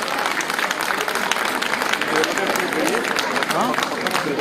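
Applause from an audience at an India trade fair, loud, dense clapping that carries on steadily throughout with a hum of crowd chatter underneath.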